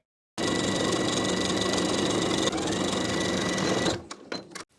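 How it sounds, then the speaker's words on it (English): A sewing machine runs steadily, edge stitching an eighth-inch seam along the folded top edge of a jumper's hem from the front of the garment, a loud continuous whir that stops near the end, followed by a few faint handling sounds. "Then we're going to edge stitch with 1/8 inch seam allowance along the top folded edge of our hem"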